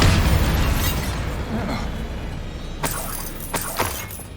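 A Bombarda blasting spell in Hogwarts Legacy bursts with a loud, rumbling boom, followed by a couple of sharp, crackling impacts and debris clatter as the blast fades.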